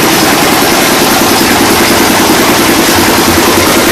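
MCB12M brick-making machine engine running during cleaning after production, a loud, steady, close mechanical drone with a low rumbling vibration and no voices.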